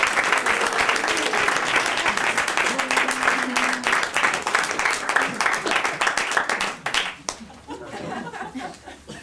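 A club audience bursts into loud, dense applause mixed with chuckles and laughter, the clapping thinning into a few scattered claps before stopping, then faint murmuring and talk follow.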